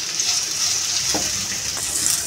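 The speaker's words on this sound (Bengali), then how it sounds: "এখানে 3 মিনিট মতন ভেজে নেব।" Chopped ginger and two dried red chillies fry in a pan, giving a steady, close, bright sizzle with faint stirring through the short stretch.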